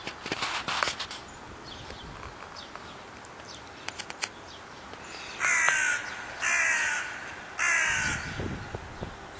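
A crow caws outdoors on a morning, three long, loud harsh calls in a row after a stretch of rustling and clicking background noise.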